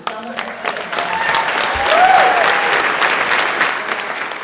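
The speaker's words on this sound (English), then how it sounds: "And so let's give a huge round of applause to Salman Rushdie." Loud, sustained applause from a large crowd at a literary event welcoming Salman Rushdie, steady clapping throughout with a faint whistle-like tone partway through.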